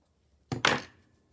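Scissors cut through fabric for a crazy patchwork pouch, a short double snip close by and quiet, with no talking.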